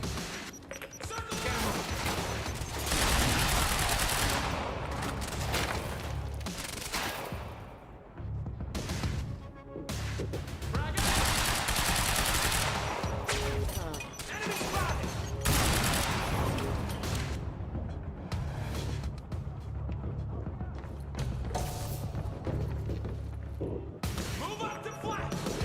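Dense gunfire and grenade explosions in the video game Quantum Break, loud and nearly continuous, with bursts and booming thuds, and a voice talking over the combat.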